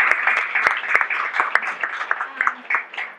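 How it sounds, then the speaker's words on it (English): Audience clapping for a small business's loyal customers, a steady patter of claps lasting about three seconds at moderate volume with a few sharper individual claps standing out. "I also want to give a huge round of applause to our amazing loyal customers."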